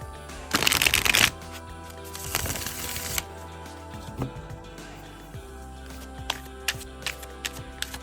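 Tarot cards being shuffled from a slippery, glidey deck: two close, crisp bursts of riffling and sliding card noise separated by a pause, then a few soft taps and handling sounds in quiet surroundings.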